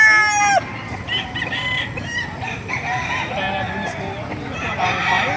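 Roosters crow at a busy chicken market in Bocaue, Bulacan, with one loud close crow at the start and more crowing and clucking spread through a dense crowd murmur, while voices talk throughout.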